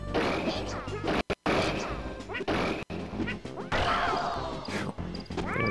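Down smash attack landing in a Super Smash Bros match between Yoshi and Pikachu, a sharp crashing hit amid loud, busy game effects and crowd noise, with short dropouts along the way.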